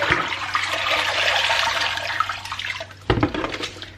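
A knitted cardigan being pressed down into a bowl of cold water, with steady sloshing and trickling close by. A brief louder splash follows near the end.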